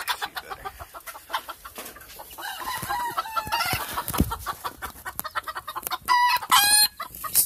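Old English Game chickens, including a BB red hen, cluck in a coop, with repeated close clucks and squawks and a louder burst of calls near the end.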